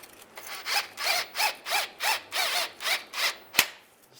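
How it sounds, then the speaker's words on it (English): A 13mm socket ratchet tightens the transmission dipstick tube bolt on a 2007-2013 Chevrolet Silverado, giving about nine even rasping strokes in steady rhythm, close and clear, ending in one sharp click. "then we'll tighten this down using a 13mm socket."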